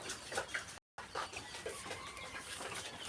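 Sonali chicken chicks and adult fowl at a poultry stall cluck and peep in short, scattered calls, fairly faint against a busy background hum, with one brief cut to silence.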